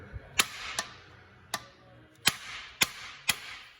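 Six sharp metallic taps from a small hammer tapping a bolt into place during a 2002-2006 Nissan Altima 2.5 water pump replacement, spaced irregularly with short pauses between strikes, fairly close and clear with no talking.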